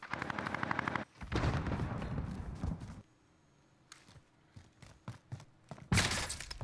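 Shooter video game gunfire: a rapid automatic burst for about a second, then a heavier stretch of shots, a quiet lull with scattered faint clicks, and a final loud volley near the end.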